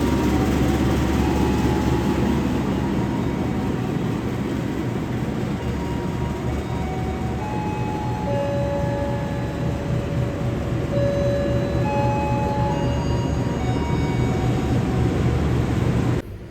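Harina passenger train pulling out of Semarang Poncol station at night, a steady loud rumble of rolling wheels and engine drone with faint tonal whines rising over it, continuous and close.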